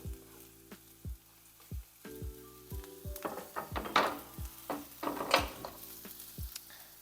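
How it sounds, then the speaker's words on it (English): Sliced mushrooms cook in a pan for an egg white omelette, with a soft sizzle under repeated low thumps and several louder bursts of stirring and utensil scraping. "Now we're just gonna cook the mushrooms down to get them a little soft"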